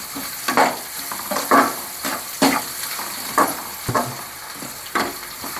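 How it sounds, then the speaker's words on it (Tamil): Onions frying with turmeric powder for kara kuzhambu, a soft steady sizzle with repeated rhythmic scrapes of a spoon stirring through the pan about once a second. "கொஞ்சமாக மஞ்சத்தூள் இது போட்டு நம்ம கலக்கிக்கலாம்."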